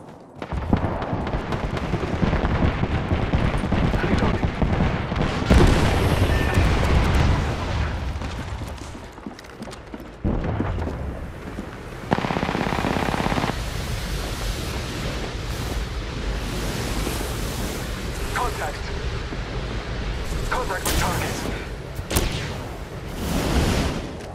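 Gunfire and explosions fill an Apex Legends battle, with dense bursts of shots, booms and fusillades amid game effects. The sound is loud and close, with bursts pausing and resuming through the whole stretch.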